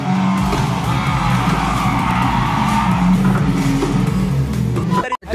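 Loud, continuous tire skidding and engine roar from a car in a realistic driving video game played on a racing setup, sustained throughout before cutting off abruptly at the end.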